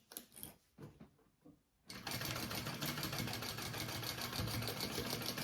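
Sewing machine stitching a quarter-inch seam in handbag lining, starting after a few soft handling sounds and then running steadily and loudly at close range.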